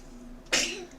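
A single abrupt sneeze bursts out close by, sharp and breathy, fading quickly into a quiet room.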